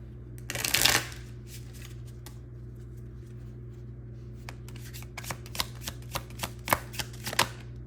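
A quick riffling shuffle of tarot cards up close, followed by a series of soft taps and slaps as cards are handled and set down, over a low hum.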